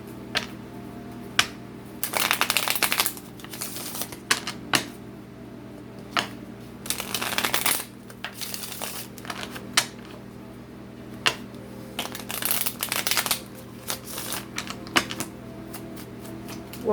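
Tarot cards being shuffled in several separate riffling bursts with quiet gaps between them, close and crisp over a low steady room hum, no talking.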